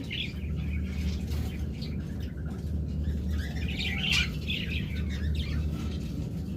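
A pair of cockatiels chirps and calls in short bursts over a steady low hum, the calls fairly close and clustered toward the middle and end.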